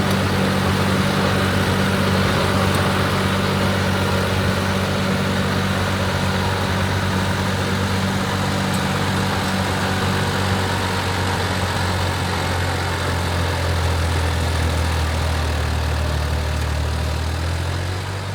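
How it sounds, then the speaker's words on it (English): A tractor engine drones steadily and loudly while pulling a Frontier RT3081 tiller through clay, its low rumble dipping in pitch partway through as it labours under load. "You can kind of hear the tractor kind of pull down a little bit."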